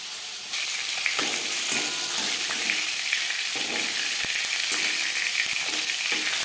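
Latha fish frying in hot oil for a curry, a loud continuous crackling sizzle that jumps up sharply as the fish goes in and then holds steady, with a few faint spatula knocks.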